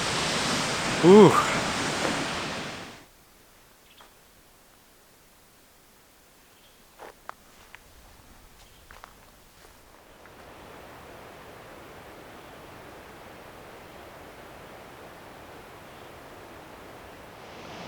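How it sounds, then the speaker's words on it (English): Middle Falls in Idaho, a 90-foot waterfall made of two drops separated by a pool: a loud rushing roar opens with a voice briefly exclaiming, quiet gaps with a few small knocks follow, then a softer steady rush of water returns. "it says it's the tallest waterfall in Idaho, measuring 90 feet in height, and is actually a series of 2 falls separated by a pool"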